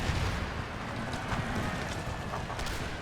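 Distant musket volleys and cannon fire from a Scottish army battle in Empire: Total War form a steady, muffled rumble of scattered shots, low and faint throughout.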